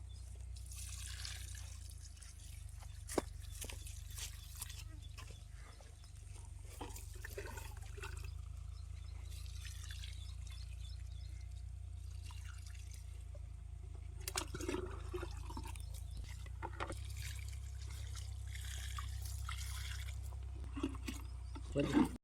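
Muddy water poured from a can onto plants in a field, a steady wet splashing and trickling that runs on and off for a long stretch over a low outdoor rumble.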